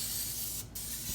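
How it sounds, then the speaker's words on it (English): Cooking spray hisses onto the sides of a skillet being greased for an apple cake, a close, steady spray with one brief break before it resumes. "make sure you spray the sides of this."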